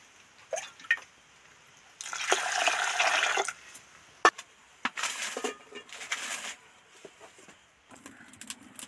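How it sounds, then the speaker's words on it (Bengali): Warm water pours onto urad dal in a bowl, a hissing splash lasting over a second followed by a couple more short pours, with scattered drips and small clinks between. "একটু উষ্ণ গরম জল ডালের মধ্যে দিয়ে দিচ্ছি।"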